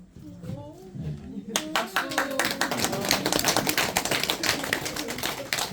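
Lecture audience bursts into clapping after a short stretch of speech, a dense and fairly close round of applause that holds steady to the end.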